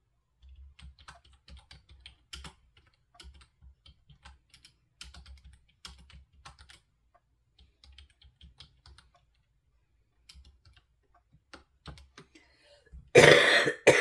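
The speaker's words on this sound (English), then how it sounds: "I'm just typing her a note here." Keys clatter on a computer keyboard in quiet, irregular bursts of clicks and taps, then a loud, close throat clearing or cough breaks in at the end.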